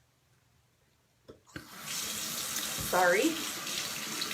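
A bathroom tap runs steadily into a sink as a makeup sponge is wetted, a continuous close hiss that starts abruptly after a couple of clicks, with someone briefly speaking over it.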